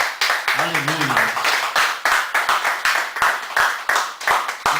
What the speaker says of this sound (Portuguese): vamos, neste momento, agradecer ao Senhor com aplausos